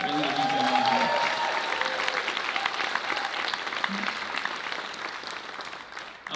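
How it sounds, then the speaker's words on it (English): Sustained audience applause fills a graduation ceremony hall, loud at first with a few voices and a cheer mixed in, then gradually thinning and fading toward the end. "So I want to give her a loud applause as the organizer of the event"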